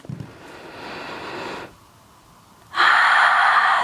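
Deep breaths during a vinyasa yoga flow: a long airy inhale, a pause, then a louder, forceful exhale, close to the microphone with no talking.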